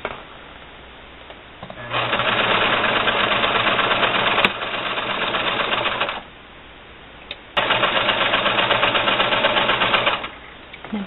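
Sewing machine running a quarter-inch seam on a baby bib: two loud, steady whirring bursts of about four and three seconds, each starting and stopping abruptly, with quiet gaps between.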